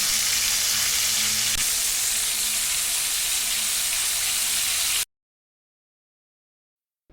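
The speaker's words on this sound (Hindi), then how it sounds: "इनको बस 3 मिनट तक ही फ्राई करना है।" Green chilies coated in gram flour batter deep fry in hot oil as pakoras, giving a loud, steady, close sizzle for about five seconds before it cuts to silence.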